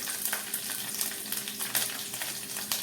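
Peanuts and green chilli pieces frying in oil over a low flame, a steady close crackling sizzle with scattered sharp pops throughout, no voices.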